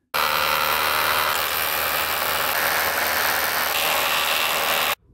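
An electric drill bores 8 mm holes into a wall for wall plugs while a TV unit is being mounted, one loud, steady whirring grind lasting about five seconds that starts and stops abruptly, with no talking.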